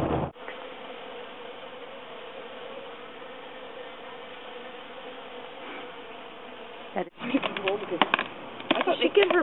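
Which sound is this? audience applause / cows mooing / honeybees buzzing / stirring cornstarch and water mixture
honeybees buzzing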